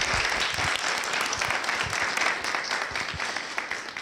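Applause from an audience at a folk song and storytelling event in Cordareni, Romania, a steady crowd of hands clapping loudly and evenly for the whole stretch.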